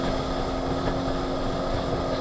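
A Sea-Doo personal watercraft engine running at full throttle in eco mode on a lake, giving a steady, sustained drone with a constant tonal hum and wind and water rush, and no speech.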